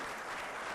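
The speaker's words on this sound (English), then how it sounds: "Give him another round of applause." Audience applause after a panel discussion on name, image and likeness, a short steady burst of many hands clapping with no voices over it.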